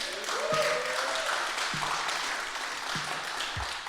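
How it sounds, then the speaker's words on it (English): An audience applauds inductees at the Long Island Music Hall of Fame ceremony, a continuous crowd clapping with faint voices and brief tonal sounds mixed in. "please give a big warm applause for the Long Island Music Hall Entertainment Hall of Fame's newest inductees"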